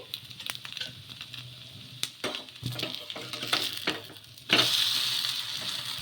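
A breakfast cake made from leftover rice fries in oil in a pan, giving a moderate sizzle broken by scraping and tapping, then a sharper, louder hiss that swells and holds to the end.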